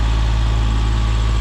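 A sailboat's engine runs at cruising RPM with a dripless shaft seal leaking, giving a loud, steady low drone with a strong hum and constant mechanical rumble and no speech.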